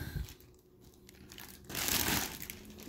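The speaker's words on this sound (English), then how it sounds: "Get her out of the plastic bag." A figure's plastic bag is opened during an unboxing, giving a quiet crinkle early on and then a louder, sustained rustling of plastic that fills the second half.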